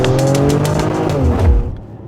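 A 2024 Mercedes-AMG GLE 53 4Matic+ Coupe's engine and exhaust rev hard and loud up close, with sharp rising pulses and a fierce bark that drops off abruptly near the end.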